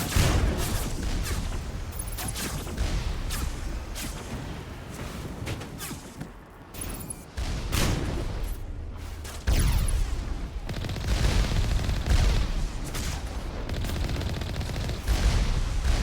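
A barrage of rockets in Mass Effect: dense, continuous rapid blasts and booming impacts overlapping for the whole stretch, loud and close, with brief dips between salvos.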